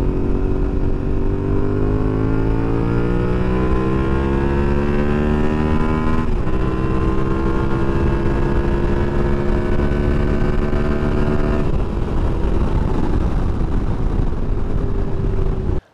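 A Yamaha Tenere 700 twin-cylinder adventure motorcycle accelerates through the gears, its engine note climbing steadily in pitch, dropping sharply at each of two upshifts, then climbing again, loud and close.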